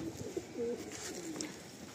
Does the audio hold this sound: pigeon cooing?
yes